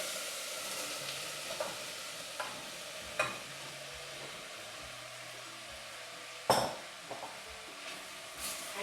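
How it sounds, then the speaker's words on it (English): Butternut squash cubes frying with ginger and garlic in a pan, a soft continuous sizzle broken by occasional scraping knocks of a utensil as the pieces are stirred. "And continue stirring for a couple of minutes."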